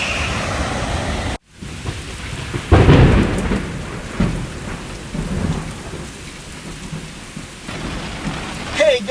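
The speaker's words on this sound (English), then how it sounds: "it's raining like crazy" A heavy downpour hammers steadily during a thunderstorm at a cliffside camp, with a deep rolling thunder rumble swelling near the middle; rain noise stays thick and continuous, with no talking.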